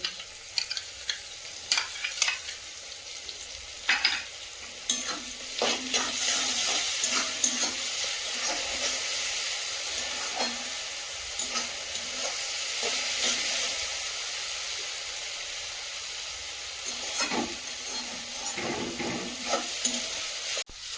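Ginger-garlic paste fries in a pan over onions already browned with green chillies, a continuous soft sizzle broken by repeated spatula scrapes and stirring knocks, close and unaccompanied by speech.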